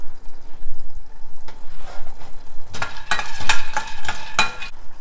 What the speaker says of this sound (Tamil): இங்கே நிலக்கடலையை வந்து நம்ம நல்லா வறுத்தாச்சு